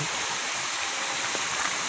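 Steady rushing of a clear mountain stream near a village, a continuous broadband wash of flowing water with no breaks, moderately loud and close, with no talk over it.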